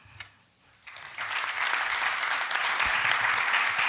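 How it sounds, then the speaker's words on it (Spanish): Applause for a book's author at an academic talk, rising from a few scattered claps into loud, sustained clapping from a full audience that continues to the end. "Un aplauso fuerte para María Pesina, autora del libro"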